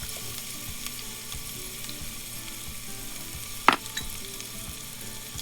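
Cumin seeds sizzle in hot oil for chickpea rice, a soft even crackling hiss with one sharp utensil clink midway.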